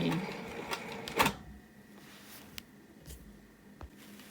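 A sewing machine stitches a wholecloth quilt in short bursts: a dense run of needle clatter, then a sharp stop and scattered light ticks and clicks as the fabric is shifted.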